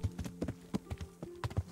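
Horse hooves clip-clop at a steady trot in the medieval video game Kingdom Come: Deliverance, a quick series of soft, close thuds with no talking over them.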